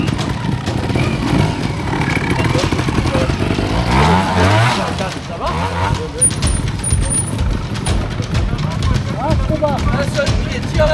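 A trials motorcycle engine revs and putters nearby at the French Trial Championship in Sommières, its loud rumble continuous while people talk over it.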